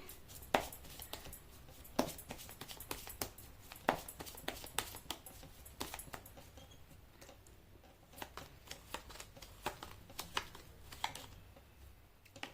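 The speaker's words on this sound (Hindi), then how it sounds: "मैं कर लेती हूँ कार्ड की शफलिंग" Tarot cards being shuffled by hand: a quiet, steady stream of soft papery riffles and taps, with sharper clicks recurring every couple of seconds, heard alone without voices.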